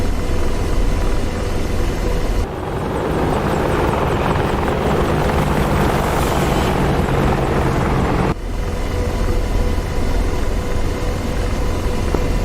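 A military helicopter in the flight simulator DCS World runs loudly and continuously, a close, dense rotor and turbine roar whose character shifts abruptly twice as the view changes.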